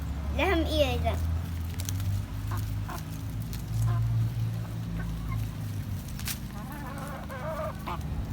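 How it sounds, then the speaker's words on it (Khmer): Fowl in a backyard garden cluck and gobble in short bursts at close range, heard under and between a child's and adults' lively talk. "Chicken!"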